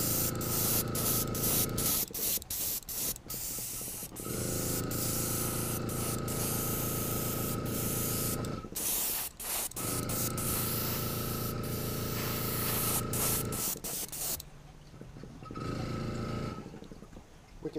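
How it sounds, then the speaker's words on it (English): An airbrush spraying paint onto a light balsa fishing lure, close hissing bursts of several seconds each, separated by short pauses with clicks and handling noises. "Balsa is so light, airbrush is pushing around."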